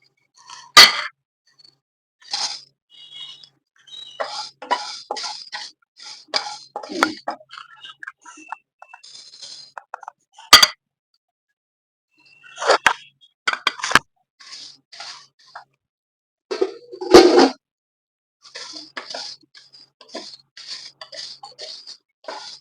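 Whole garam masala spices dry-roasting in a pan over low heat, heard as scattered crisp clicks, ticks and small rattles of spices shifting against the metal, close and fairly quiet, coming in irregular bursts with short pauses.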